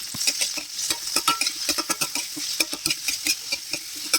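Sweet potato leaves with sardines and tomato being stirred in a pan: rapid, close scraping and clinking of a utensil against metal in a quick, busy rhythm over a soft sizzle.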